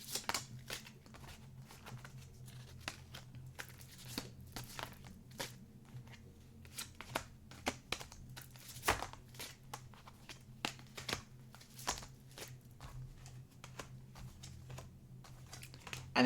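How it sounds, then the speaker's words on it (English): Soft, rapid tarot card shuffling repeats in quick riffling bursts, close and fairly quiet, over a low steady background hum, with no one speaking. "I'm going to stop shuffling the cards now"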